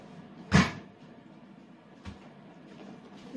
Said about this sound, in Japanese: ドア外れちゃった。